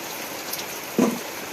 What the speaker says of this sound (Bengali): শীতকালের বৃষ্টি, অনেকদিন পরে বৃষ্টিটা হচ্ছে।